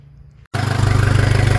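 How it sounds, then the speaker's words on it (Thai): A car engine with coolant cleaning fluid added to its water system runs at a steady idle, its rhythmic throbbing pulse starting abruptly after a brief silence and staying close and even. "กำลัง รันเครื่องอยู่นะครับเพื่อที่จะให้ระบบน้ำมีการไหลเวียนนะครับ"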